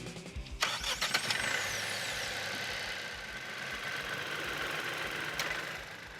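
A Proton S70 with a 1.5-litre petrol engine cranks briefly and catches, then settles into a steady, fairly quiet idle heard close by with no talking.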